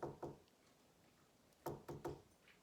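Knocking on a wooden door, two quick raps followed after a pause by a group of three knocks, fairly close and distinct against a quiet background with no talking.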